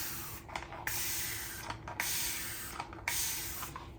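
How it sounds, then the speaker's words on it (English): A mist bottle sprays water onto faux shiplap wooden boards in several quick hissing bursts, close by and evenly spaced, with no talk. "I'm just using my mist bottle and I'm gonna mist it"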